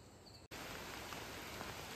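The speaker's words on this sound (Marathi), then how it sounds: "ह्यो पाऊस आता मध्येच चालू झाला आहे" Rain falling steadily outdoors, a uniform hiss of drops that begins abruptly after a brief break and continues evenly, fairly faint.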